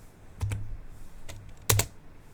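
A few sharp computer keyboard keystrokes typing a Windows command, sounding as isolated clicks near 0.4, 1.3 and 1.7 seconds against quiet room hiss.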